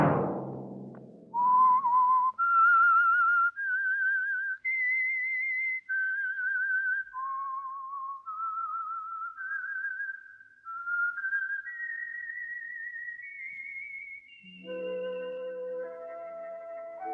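A lone whistler performs the eerie signature tune of The Whistler radio program, a slow rising and falling melody of clear sustained notes, ending as an orchestral chord enters.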